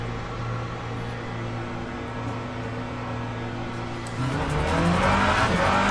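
A hypercar on racing tyres pulls out of the pits in a racing game, its engine droning steadily before revs rise sharply near the end with tyre wheelspin, fairly close and without talk.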